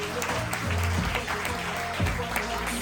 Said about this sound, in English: Clap Mahesh